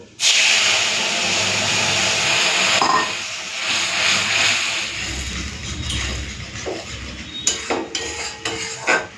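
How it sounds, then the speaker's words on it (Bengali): Mustard paste and water hitting hot oil with tempering spices in a pan, a loud hissing burst that gradually settles into bubbling simmer, followed by clinks of a utensil against the pan near the end. "তেলের মধ্যে ফোড়ন দিচ্ছি কালো চিনি সরষে বাটা জলটা দিয়ে দেবো"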